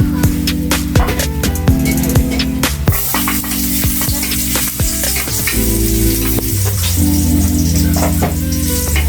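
Garlic sautéing in a hot pan with loud, continuous oily sizzling and crackling, accompanied by a steady hum and occasional utensil scrapes.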